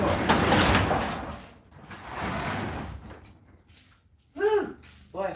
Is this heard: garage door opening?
yes